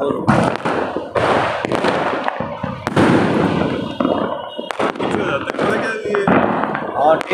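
Festival firecrackers and fireworks burst repeatedly at close range, loud irregular pops, thuds and crackles in quick clusters, with people talking and exclaiming over them.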